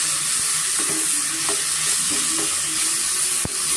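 Tomatoes and spices fry in hot oil in a pan for a sprouted horse gram sambar, giving a steady close sizzle with a few scraping stirs and a sharp tap near the end, no talking.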